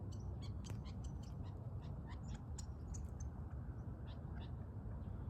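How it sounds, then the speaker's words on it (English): Birds call outdoors as darkness falls near sundown, with many short chirps and squawks scattered over a steady, fairly loud low rumble of ambient noise. "There's all these birds around."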